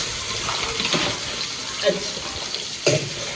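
Onions hit hot oil in a pan, giving a soft continuous sizzle and hiss with a few small sputters and clatters, fairly faint and close.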